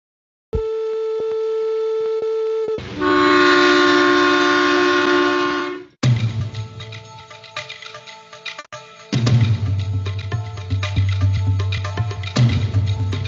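A Mumbai metro train on the Reliance Metro line, heard as loud sustained horn-like tones followed by rumbling, clattering rail noise with bursts of low engine drone, close and continuous.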